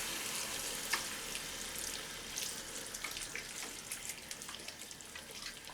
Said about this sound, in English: give your hands a good rinse